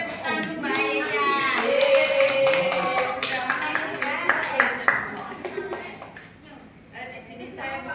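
A primary-school classroom bursts into applause for a pupil, a burst of children's clapping mixed with young voices chattering over it, fading to scattered claps and talk.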